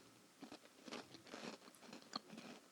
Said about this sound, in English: sorry if you hate chewing sounds. I am your nightmare.